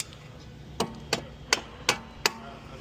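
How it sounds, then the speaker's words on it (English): Five sharp metallic hammer strikes ring out at a steady pace while a suspension bolt is knocked out of an Infiniti G37x during a coilover install, each blow close and distinct over quiet background. "pretty much it should just pop out with a couple hammer hits"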